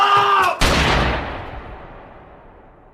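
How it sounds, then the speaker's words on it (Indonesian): A single loud gunshot in a film scene, a sharp close blast that cuts off a tonal sound and then rolls away in a long fading rumble lasting over two seconds. "Nick sendiri pun ditembak di bagian perut hingga tak sadarkan diri."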